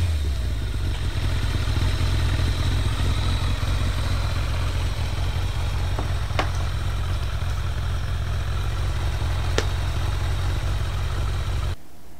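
Kawasaki ZZR1200 motorcycle with an aftermarket exhaust being ridden, a steady loud engine drone with wind rush and a couple of brief clicks, cutting off abruptly near the end.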